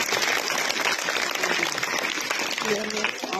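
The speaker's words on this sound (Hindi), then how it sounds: "तालियां बजाएं।" Students clap together at a health awareness session in a government elementary boys' school, a steady, dense wash of applause that fills the room, with voices talking over it.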